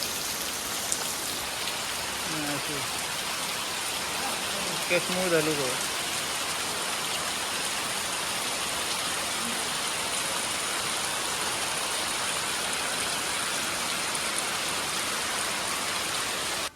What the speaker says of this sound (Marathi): थोडस कमी झालो हा पाऊस